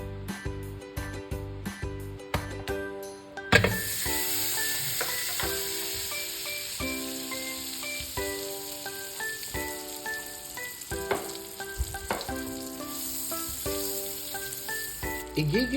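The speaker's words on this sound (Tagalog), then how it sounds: "So sa mainit na kawali, tayo ay maglalagay ng butter." Butter sizzles in a hot pan while red sauce for baked lasagna is started, a bright steady hiss that begins abruptly a few seconds in and carries on beneath louder background music.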